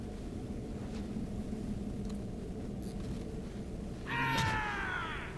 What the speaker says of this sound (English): I scared my cat